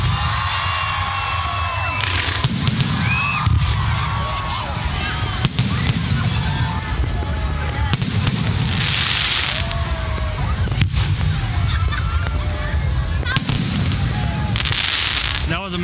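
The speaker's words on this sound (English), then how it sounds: "I guess they're waiting for the main event, the fireworks." New Year fireworks at Pha That Luang in Vientiane, a loud crowded outdoor scene of repeated booming bursts and crackling, with cheering, shouting children and people talking throughout.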